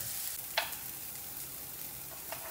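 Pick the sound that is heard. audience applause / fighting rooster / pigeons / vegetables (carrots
vegetables (carrots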